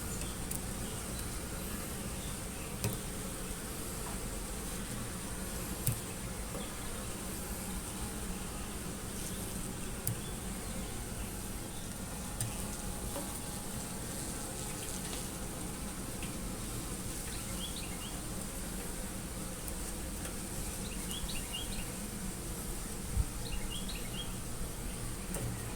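Bees buzzing around a hatching drone bee at a hive, a steady faint hum of many insects with occasional brief chirps of birds in the distance.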